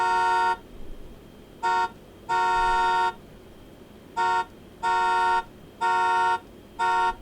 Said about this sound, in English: Bro's car plays Morse code for no reason at all.